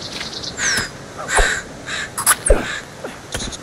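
A crow cawing in The Forest video game, several harsh, scratchy caws spaced out over a few seconds, fairly close, with clicks and small noises between them.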